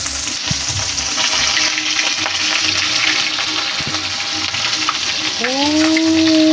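Freshly caught fish frying in hot oil over a strong flame, a loud, steady crackling sizzle throughout with a few brief clatters, no talking.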